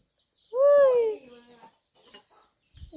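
Chickens are fed by hand at a rural Thai home; a loud hen squawk rises and falls, followed by faint soft clucks and rustling nearby.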